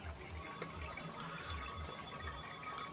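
Water pours steadily into a pan of lote fish curry, a continuous close splashing wash with a soft rhythmic gurgle underneath, with no voices.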